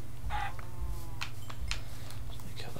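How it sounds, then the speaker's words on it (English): Chicken in a video game clucking in short repeated bursts over a steady low background hum, fairly close and alone with no talking. "I'm just going to kill this chicken."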